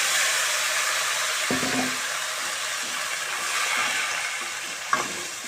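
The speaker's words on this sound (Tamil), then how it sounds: "இந்த அரைச்சி வச்சுருக்க தக்காளி இதில் மெதுவாக ஊற்றிடலாம்" Ground tomato paste is poured slowly into hot oil over a low flame for tomato thokku, giving a steady loud sizzle with a couple of brief clatters.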